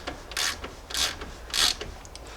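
A hand ratchet tightens a slotted castle nut on a Jeep Grand Cherokee ZJ tie rod end, making three quick clicking pulls spaced about half a second apart, close and clear with no talking.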